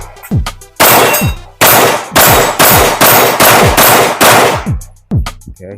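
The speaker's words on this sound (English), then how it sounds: "hopefully you guys will be able to hear it as I'm shooting" Rapid, loud pistol gunshots fire close by in a quick string of about a dozen, ringing steel targets after the hits, and a few scattered shots and metallic clangs follow at the end.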